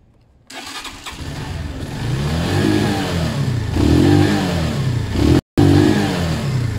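A Zontes 125 motorcycle engine cranks and catches after its choke is adjusted, then revs in several rising and falling surges at close range, loud and rough, with a brief cut near the end.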